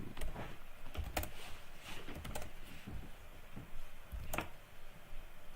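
Typing on a computer keyboard in a Linux session: irregular bursts of close, crisp key clicks with brief pauses between, fairly quiet and with no voices.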